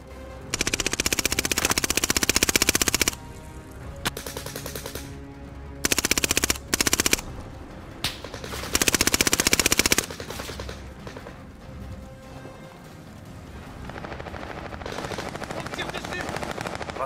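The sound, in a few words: gunfire aimed at the player in a video game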